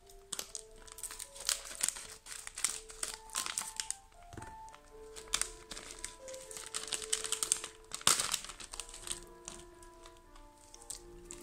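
Plastic snack packaging from a Japanese snack box is crinkled and pulled at up close, giving irregular bursts of crackling with soft taps and rustles, moderately quiet throughout with no talk over it.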